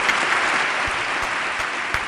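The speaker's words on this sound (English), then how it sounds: "A great use for that applause button." Canned applause effect triggered from a soundboard button during a talk radio broadcast, a dense steady clapping crowd sound running evenly for about two seconds at moderate loudness.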